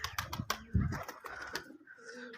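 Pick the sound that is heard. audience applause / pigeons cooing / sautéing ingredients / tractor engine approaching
pigeons cooing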